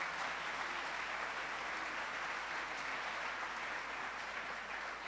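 A church congregation claps during a service, a faint, distant and continuous patter of many hands that stays level from start to finish.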